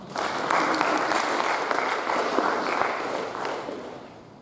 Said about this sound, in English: Let's give a round of applause for Michael.